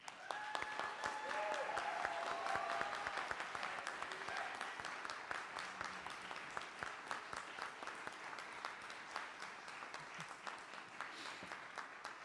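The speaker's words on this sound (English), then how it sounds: "Sometimes you even have to put things down in order to clap." A church congregation claps to welcome new members at a flower ceremony, sustained steady applause that swells early and then thins to scattered claps, with a brief voice near the start.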